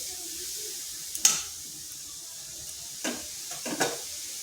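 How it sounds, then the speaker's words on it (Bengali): Grated carrots frying in a pan for carrot laddu, a soft steady sizzle throughout with a few brief clinks and stirring scrapes at intervals. "এটা এই কারণে বেশ কিছুক্ষণ ভাজতে হবে, মানে গাজরের যে কাঁচা ভাবটা থাকে সেটা যেন কেটে যায়।"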